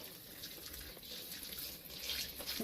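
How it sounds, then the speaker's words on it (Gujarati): Water runs steadily from a tap, a constant splashing hiss close by with no pauses. "નળ બંધ કરી દે"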